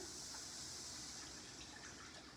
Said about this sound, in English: So you just pour it in,